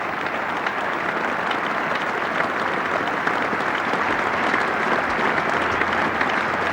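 Warm, continuous applause rolls around Lord's as Jack Russell brings up his fifty in his first Test, England against Sri Lanka in 1988, a broad stadium crowd clapping steadily without a break.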